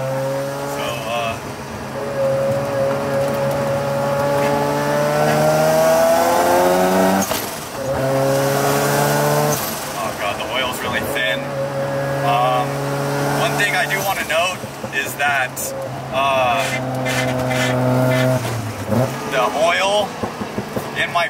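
A Mazda RX-7 FD's engine drones and rises through a night mountain touge run in a driving game, loud and sustained, dipping between gear changes and bursts of acceleration, with a voice talking over it.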